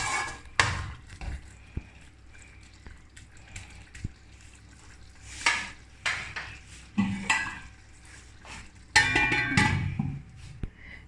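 A spoon stirs dried fenugreek into karela curry in a pan, giving scattered metallic scrapes and clinks against the pan with quiet pauses between them, with a busier burst of clattering near the end.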